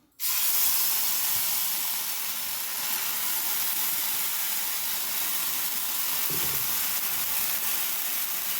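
Rava dosa batter hitting a hot pan gives a loud, steady sizzling hiss that starts abruptly and holds broadband and unbroken, with a faint low thump partway through.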